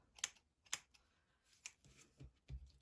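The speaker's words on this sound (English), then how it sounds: "just little snips down at the bottom upwards with your scissors like that" Scissors make a few short, crisp snips while trimming amigurumi yarn hair, sharp isolated clicks close by, followed by soft handling noises.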